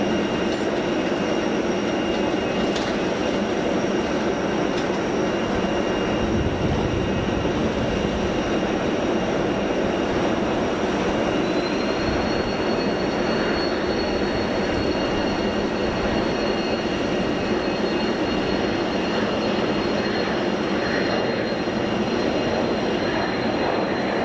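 Airliner jet engines at Geneva Airport give a loud, steady broadband roar that runs throughout, with a high whine gliding upward midway as they spool up, heard from nearby outdoors with no talking.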